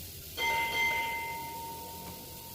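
An electronic bell chime rings from a 3D wheel alignment machine in a car workshop, a single clear tone that starts sharply and then slowly fades while holding steady.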